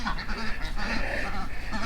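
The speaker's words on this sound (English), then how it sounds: "the ducks will sound off and let you know that something's around" Ducks quack and honk in a busy cluster on a cold, wet, rainy day, with several overlapping calls close by and continuous for a couple of seconds.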